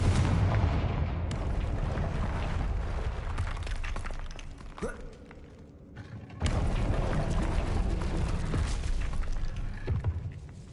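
Booming spell blasts from the Confringo blasting curse in the Hogwarts Legacy video game, heavy explosive bursts and rumble filling the stretch with a brief quieter gap near the middle before the barrage resumes.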